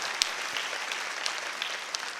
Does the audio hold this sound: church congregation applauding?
yes